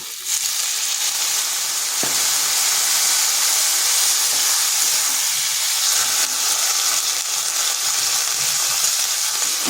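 Water poured into a hot pan of potatoes and pointed gourd sets off a loud, steady sizzle and hissing steam that holds through the whole stretch, close up, with no talking.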